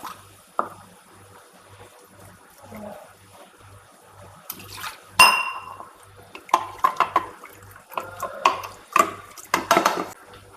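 Water swirls and splashes inside a mixer jar as it is rinsed and tipped out, irregular close sloshes and pours over a quiet background with a faint repeating low hum.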